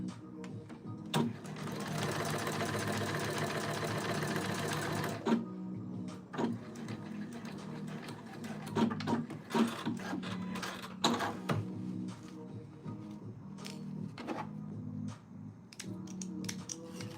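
A sewing machine stitches fabric in a quick, even burst of mechanical whirring and needle chatter, then stops, followed by scattered clicks and light handling noises at low volume.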